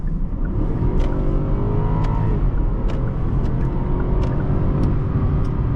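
A 2018 Genesis G80 5.0 Ultimate accelerating hard in Sport mode, its V8 engine a loud, steady roar that rises through the gears from inside the cabin.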